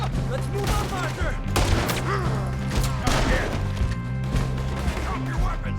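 Gunfire in Red Dead Redemption 2 as a dense, continuous fusillade of sharp cracks and thuds layered with game action, with voices in the clip.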